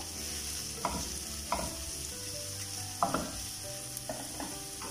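Chopped onion fries in a pan for a masala dosa filling, giving a steady close sizzle with a few scraping spatula stirs at irregular moments.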